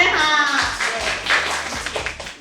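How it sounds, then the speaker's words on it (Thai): Scattered hand claps from a group, a short burst of applause with some background voices mixed in. "ขอเสียงปรบมือนะคนะ"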